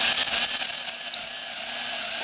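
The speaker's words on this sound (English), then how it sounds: "You can see the bender, the hydraulic bender in action there." A hydraulic bender strains while straightening a steel rail in hot weather, a loud steady mechanical whine with a high squealing tone that wavers, then drops off.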